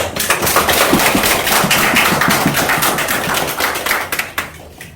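Congregation applause at a Presbyterian pastor ordination service, a loud, dense patter of clapping with sharp individual claps that tapers off toward the end.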